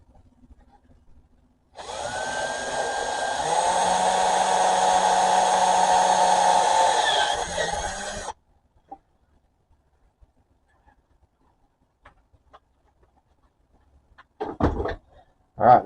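A power drill boring two holes, one larger and one smaller, for a dust extraction setup, whining steadily and loudly for about six seconds, then a few faint knocks and handling clatter.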